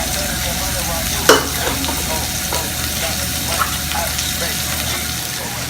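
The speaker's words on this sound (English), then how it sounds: "Make sure you stir up everything." About three cups of rice sizzle while being stirred and frying in a pan, a steady close hiss with occasional scraping stirs and one sharper clatter.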